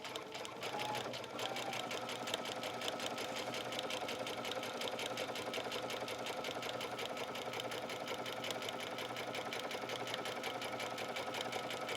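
A sewing machine runs steadily for the whole stretch, stitching a long, straight sashiko line from the center outward in a couture project, its rapid, even needle rhythm close and loud with no pauses.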